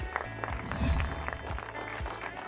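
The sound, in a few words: applause for the runners-up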